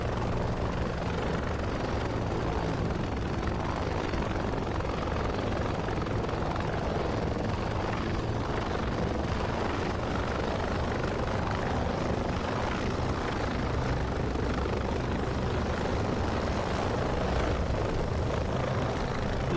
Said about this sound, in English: Continue to increase throttle. You have to have like the right mixture of throttle and cyclic. Now we're up and we're off.